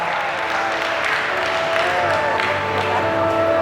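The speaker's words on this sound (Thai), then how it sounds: "ขอเสียงปรบมือเลยนะครับ" An audience applauds at the Miss Grand Kalasin 2025 beauty pageant final, steady dense clapping and cheering throughout with a held musical tone running underneath.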